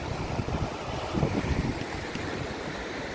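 A river roars beside a trail along the Pacific Crest Trail, a steady broadband rush of water mixed with wind noise buffeting the microphone, loud and continuous with no voices.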